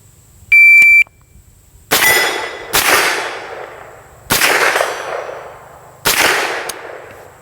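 Windham Weaponry 9mm carbine firing at steel silhouette targets on an outdoor range, four sharp gunshots spaced about a second apart, each with a ringing decay, after a brief electronic beep.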